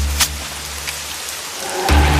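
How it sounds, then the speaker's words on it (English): Heavy cold rain pours steadily on a mountain village in October, a dense continuous hiss with a few brief sharper surges and a low rumbling swell near the end, no voices. "it poured cold, silvery rain that turned roads into rivers"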